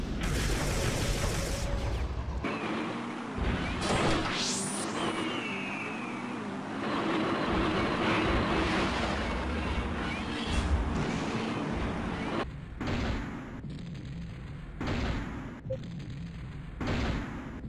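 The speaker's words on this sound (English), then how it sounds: "Mortar cannon shell." Several loud video-game tank mortar cannon blasts with booming echoes, separated by mechanical rumble and sharp cut-offs, followed by a rapid series of short bursts.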